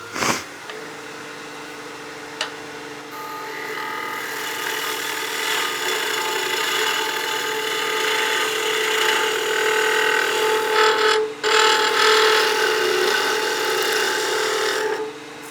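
A spindle gouge cuts a wood spindle turning on a lathe, giving a steady, close rasping scrape with the lathe's tonal whine beneath it. It runs continuously for most of the stretch, with a brief break near the end.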